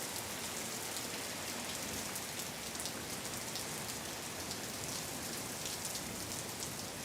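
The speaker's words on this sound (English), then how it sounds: "just a good old-fashioned thunderstorm out here. Heavy rainfall." Heavy thunderstorm rainfall in Champaign pours down as a thick, continuous wash of drops on surfaces, steady and fairly close, with scattered brighter spatters and no talking.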